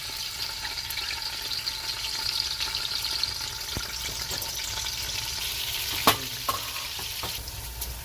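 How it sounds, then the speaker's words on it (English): Onion frying in hot groundnut oil for jollof rice gives a steady, close sizzle throughout, with a few brief stirring clinks near the end. "I have my groundnut oil here. I'm going to add my onion."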